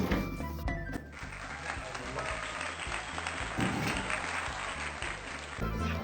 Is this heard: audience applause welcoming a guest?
yes